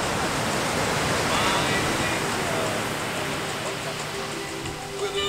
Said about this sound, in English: watching the waves go by